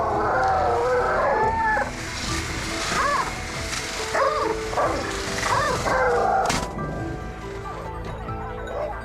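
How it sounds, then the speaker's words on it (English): Hunting hounds bark and yelp in bursts while tracking wild boars in a cornfield, several dogs echoing at a middle distance over outdoor rustle, with a sharp crack partway through. "The hound's barking continued to echo from deep within the cornfield."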